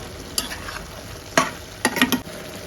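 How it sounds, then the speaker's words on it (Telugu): Ground masala is stirred into a simmering village-style mushroom curry made with milk and ragi flour: a few abrupt scraping strokes of a spoon against the pan stand out over a soft background sizzle. "మొత్తం వేసేసుకొని బాగా కలుపుకుందాం"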